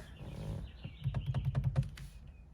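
Paddle shifters on a Ford Mustang EcoBoost clicking in a quick series of about eight sharp, close, quiet clicks after a soft shuffling start.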